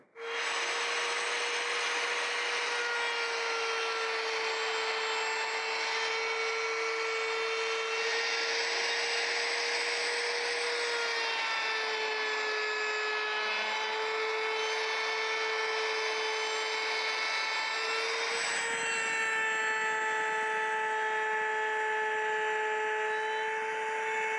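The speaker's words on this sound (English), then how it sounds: "I'm going to continue cutting in increments of about 1/8 to 3/16 of an inch in each pass" A router whines steadily as it cuts a guitar neck mortise in the body using an LMI neck joint jig, a loud sustained high-pitched tone that dips in pitch as the bit bites in incremental passes.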